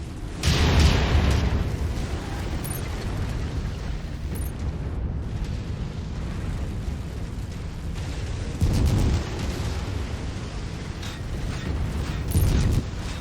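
Missile strikes in a video game land as loud, close explosions that roll into a long, heavy rumble, with fresh booming surges near the start, partway through and again near the end.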